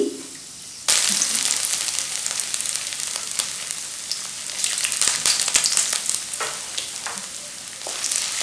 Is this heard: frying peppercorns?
yes